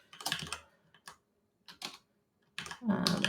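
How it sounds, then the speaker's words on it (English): Someone types into a Google Sheets spreadsheet on a computer keyboard: quiet, close clicking in short separate bursts with gaps of silence between them. "You could type in"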